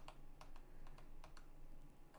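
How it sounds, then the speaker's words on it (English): Key clicks on a Razer Chroma computer keyboard, a series of sharp, crisp taps spaced irregularly over a faint steady hum, fairly close and moderately quiet with no talking. "So now you can see when I click a key,"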